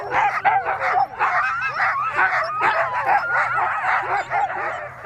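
A pack of Greenland sled dogs outdoors barks, yips and whimpers in a dense, continuous chorus, loud and close, with no talking.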